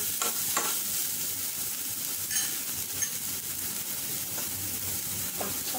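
Green chillies being sautéed in a pan for a potato snack give a steady close sizzle of frying, with a few scraping stir strokes running through and no voices.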